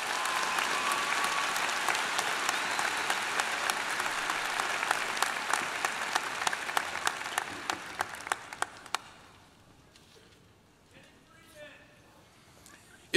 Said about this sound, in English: Please join me in applauding the efforts of our emeriti faculty.